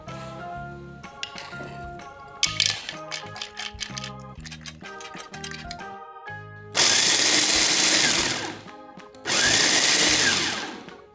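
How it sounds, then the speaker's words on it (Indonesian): A kitchen blender grinds fried peanut seasoning for East Javanese tahu telur, first pulsing in short choppy bursts, then running in two long, loud continuous whirring stretches with a brief stop between. "Langkah berikutnya, kita blender agak halus ya teman-teman."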